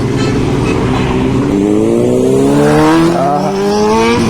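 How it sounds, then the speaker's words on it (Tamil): A loud engine revving steadily upward in pitch, a high-performance motorcycle accelerating close by, continuous and strong with no talking. "இந்த பைக்கெல்லாம் எப்படி பாருங்கள், சவுண்டு பாருங்கள் எப்படி இருக்குன்னு"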